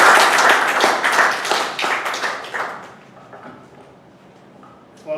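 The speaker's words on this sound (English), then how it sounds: "So I want everybody to give one more round of applause" Audience applause for a club speaker at a meeting, loud and sustained clapping that fades after about three seconds, leaving quiet room sound and a brief clap at the end.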